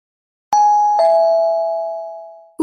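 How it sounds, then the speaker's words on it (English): A newly installed doorbell chimes two tones, a sharp strike then a second, each ringing out with a long clear sustain that slowly fades, loud and close with nothing else sounding. "It was the doorbell."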